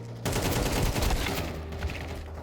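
Rifle fire in Counter-Strike 2, a sudden burst of rapid automatic shots that starts abruptly and rattles on steadily, fairly quiet and close, with a slight fade toward the end.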